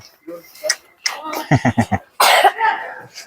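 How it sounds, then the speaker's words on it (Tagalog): A child coughs several times in a quick burst, close by, between bits of talk and a sharp breathy sound. "inuubo ka na"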